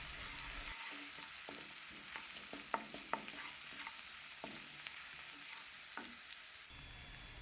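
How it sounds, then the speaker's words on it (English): Onions and garlic fry with salt in a pan, a steady close sizzle with scattered clicks and scrapes of stirring, fairly quiet throughout. "cook for another 2 minutes until your onions and the garlic have cooked well"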